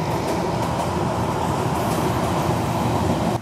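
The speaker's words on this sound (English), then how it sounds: "oh, there's a train. It's loud too." A train rumbles past close by, a loud, steady wall of rail noise that holds for the full stretch with no voices over it.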